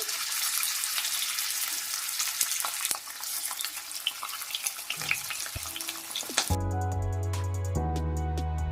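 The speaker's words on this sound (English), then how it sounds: "let's start by shallow frying this chicken" Steady, crackling sizzle of chicken shallow frying in a pan for several seconds, then the sizzle cuts off and music takes over.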